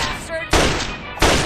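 Gunfire from a .32 pistol in the Fallout video game on very hard difficulty, with two loud broadband bursts close by and low background music between them.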